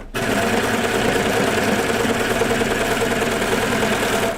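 A serger sewing machine runs continuously at close range, its steady fast mechanical whir and hum holding even from start to finish with no pauses or talk.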